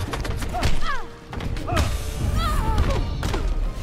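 Heavy thudding impacts from a giant energy-ball attack by Lex Luthor in the Injustice fighting game, several booming hits with whooshing swirls and chirping effects, loud and close throughout.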